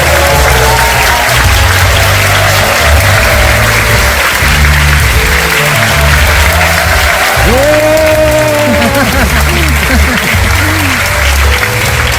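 Audience at a lecture venue in Cheongju giving loud, sustained applause as a professor walks on stage, dense clapping throughout with some musical tones and crowd noise mixed in.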